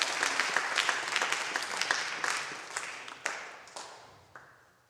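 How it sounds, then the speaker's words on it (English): A school audience applauds contestants at a geography bee, a moderate round of clapping that thins out into scattered individual claps before stopping. "let's give them a round of applause"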